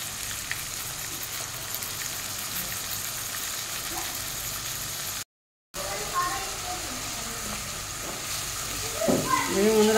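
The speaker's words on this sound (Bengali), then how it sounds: "ভালো করে ভেজে নিচ্ছে।" Onion paste frying in a pan for a meat curry, giving a loud, steady broadband sizzle throughout that cuts out briefly and then grows a little busier near the end.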